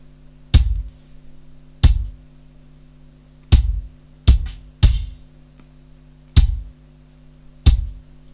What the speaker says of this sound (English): So that's the kick sound.